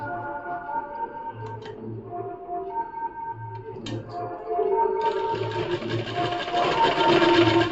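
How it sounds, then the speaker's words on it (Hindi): A sewing machine stitches tucks into a lined blouse with a rhythmic ticking and whirring hum that starts and stops in short bursts, then runs faster and louder near the end, with no talk over it. "अब मैं जब इसे जैसे ही स्टिच करूँगी"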